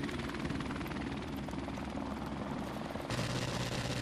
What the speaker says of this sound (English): Shoot the helicopter.